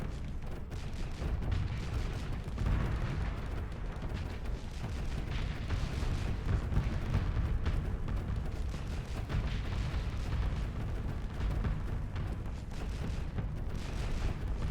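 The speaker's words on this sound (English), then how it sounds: "I'm just firing off all the missiles I got right now." Missiles launched and bursting in a Starsector space battle, a dense, continuous rumble of booms and blasts with no clear gaps, steady and loud throughout.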